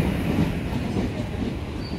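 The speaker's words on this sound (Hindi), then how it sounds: "जो अभी जो ट्रेन यहाँ पर आई थी वो मदुरई से आई थी" A train rolls past at a station, a continuous close rumble with faint wheel clatter and a brief squeal toward the end.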